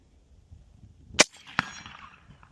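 Two sharp gunshots from a custom AR10 rifle chambered in .308 Winchester, fired outdoors at steel targets: a loud crack followed about 0.4 seconds later by a second shot, each trailing into a brief echoing decay.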